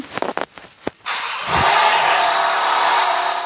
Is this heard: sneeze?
no